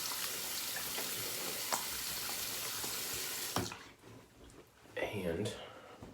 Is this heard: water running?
yes